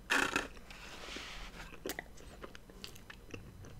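Someone takes bites of a s'mores crepe topped with ice cream, with a loud crunchy bite up front followed by quieter, close chewing and wet mouth sounds.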